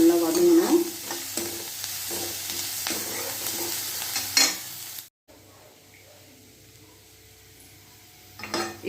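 Onions sauté in a pan with busy stirring: metal utensils scrape and clink against the pan over a bright, close sizzle for about five seconds, then a brief silence gives way to a quieter, softer frying hiss.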